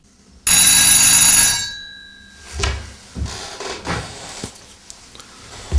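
An old-style bell telephone rings once loudly and close in a newspaper office, then the handset is picked up with clunks and rattles that follow.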